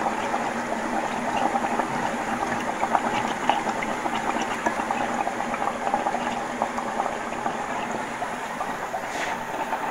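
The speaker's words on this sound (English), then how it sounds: "I hear it bubbling away down there." Water bubbles and boils in the boiler of a simple DIY steam turbine, a dense steady seething and popping that carries on close and continuous with no talking.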